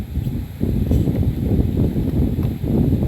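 Strong wind blows against a small drone and microphone outdoors, making a loud, continuous buffeting roar with gusty surges throughout.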